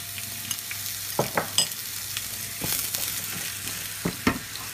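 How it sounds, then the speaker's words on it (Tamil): Ridge gourd fries in oil with a continuous sizzle, broken by several sharp scrapes and clacks of a spoon stirring the pan. "பீர்க்கங்காயையும் போட்டு நல்லா வதக்குங்க"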